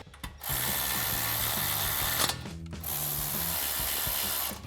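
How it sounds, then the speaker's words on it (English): Ratchet with 8 and 10mm sockets tightening bolts on a Ford F-150 during a leveling lift kit install, a rapid continuous clicking pawl that runs steadily, pauses briefly, then resumes, close and clear with no talk. "Grab our ratchet and 8 and 10mm socket and tighten those down."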